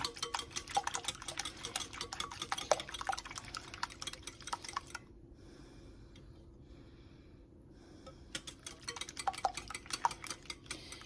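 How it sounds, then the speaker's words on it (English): Five eggs whisked in a bowl, a fast run of light metallic clinks and taps that stops briefly midway and then resumes, close and clear with no voices. "here's our 5 eggs. We're going to just whisk them up"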